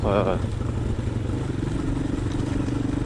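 A Honda XLR125R, a 125cc trail motorcycle, idles close by with a steady, lumpy single-cylinder putter and mechanical clatter, running continuously under a short burst of voice at the start.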